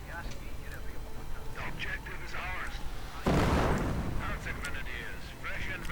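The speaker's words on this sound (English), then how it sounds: "Mortar rounds landing though amongst the Panzergrenadiers as well" Mortar rounds landing in a real-time strategy game, a heavy booming impact around the midpoint amid continuous battle noise and scattered smaller blasts, with a commentator talking throughout.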